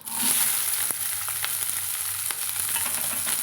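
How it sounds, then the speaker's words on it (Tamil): Shallots and green chilies frying in hot oil for a mushroom gravy, a loud steady close sizzle with bright spitting hiss and a few sharp crackles and pops throughout, no talk. "இப்போ நம்ம இந்த வெட்டி வச்சுக்கிற சின்ன வெங்காயம் பச்சை மிளகாயும் வந்து நம்ம சேர்த்துக்கலாங்க"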